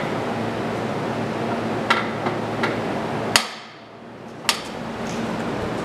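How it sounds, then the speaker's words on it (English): Several sharp metallic hammer strikes on a golf cart's exhaust header ring out, spaced irregularly, a couple louder than the rest, over a steady background hum that briefly drops away. "whacking shit with a hammer"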